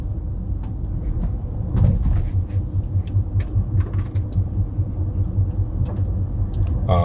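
Car tires on a freshly repaved road, a continuous low rumble with irregular soft thuds and ticks from picked-up debris, heard from inside the cabin, with no talking.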